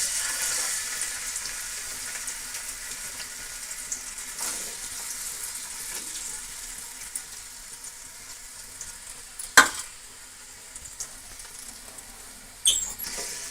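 A large onion sizzles and fries in hot oil for chicken dum biryani, a steady soft crackle with a few sharp clinks of a utensil against the pan.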